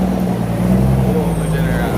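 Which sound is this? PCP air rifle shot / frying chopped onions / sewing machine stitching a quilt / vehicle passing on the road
vehicle passing on the road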